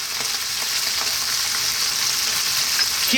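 Garlic and beef fry over high heat in a pan with a steady, bright sizzle and occasional spitting pops, continuous and close.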